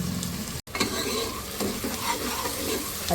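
Chopped garlic, ginger and onion fry in hot oil for a mutton tikka masala with whole spices, giving a loud, steady sizzle with stirring scrapes throughout and one brief dropout of sound near the start.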